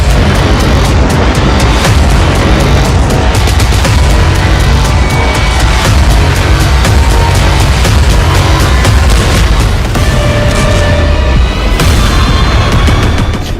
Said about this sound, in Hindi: खान यूनुस में इस वक्त इजरायली सेना भीषण बमबारी कर रही है।